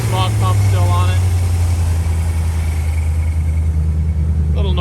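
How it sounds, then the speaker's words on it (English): A 1981 Chevrolet Corvette C3 engine idles steadily and close by with a low, even drone, faint belt whine woven through it, while someone talks over the running motor. "Little noise out of the belt there"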